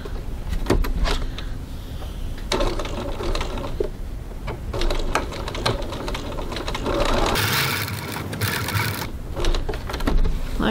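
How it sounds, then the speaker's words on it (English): A sewing machine top stitches a leather-style wallet, running in steady bursts of rapid needle clatter with brief pauses and handling noises between runs, close and fairly loud. "now all we're going to do is top stitch between those two marks that we just made"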